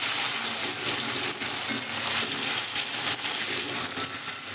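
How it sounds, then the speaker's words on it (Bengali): Paneer pieces fry in very hot oil over a high flame, giving a steady, dense, loud sizzle that runs unbroken throughout with no talking. "নুন দিয়ে এবার আমি পনিরগুলো ভেজে নেব"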